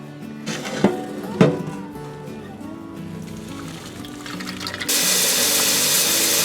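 Hot water being drained from a pot of boiled farm fresh eggs in a kitchen sink, with a couple of sharp clanks of the pot, a quiet trickle, then a loud steady rush of pouring water.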